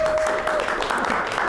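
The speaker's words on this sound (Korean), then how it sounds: "나오실 때 박수로 맞아주시기 바랍니다" Church audience applause for a lecturer at an NVC talk in Toronto, a brief, fairly quiet wash of steady clapping with a faint voice mixed in.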